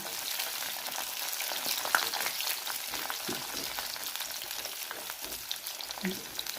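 Something fries in a pan with a steady, close sizzle throughout, with occasional faint stirring scrapes and a few soft knocks.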